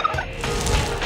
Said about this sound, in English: It's time to get the kids ready to say goodbye to the turkeys.